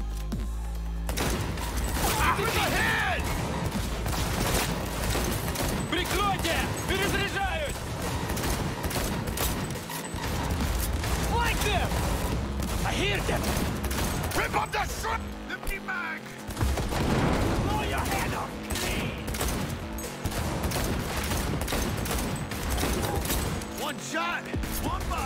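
Pistol shots in Cyberpunk 2077 pop repeatedly amid a dense, loud game mix of music and effects, with a player's voice talking over the action.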